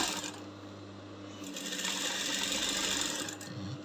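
A sewing machine runs continuously while topstitching a placket on a pleated yoke gown, a steady low mechanical whir, soft and close, with no voices over it.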